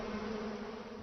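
Africanized bees hum around a large hive in a backyard, a steady, dense droning buzz at close range with no pauses or voices.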